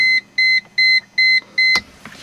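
Five evenly spaced electronic warning beeps from a 1998 Mercedes-Benz SLK230 sound close and clear, followed by a soft click and quiet.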